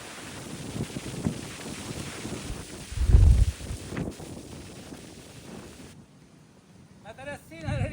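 Strong gusting wind buffets the microphone at an outdoor Sunday lunch during a storm, with a loud gust around the middle, then it eases off near the end where faint chirps come through.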